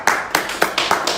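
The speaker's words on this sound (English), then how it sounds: "give him a round of applause" A few people clapping for a donor at a fund-raising rally in Nigeria, five short bursts of hand claps at a fairly steady pace, close and moderately loud.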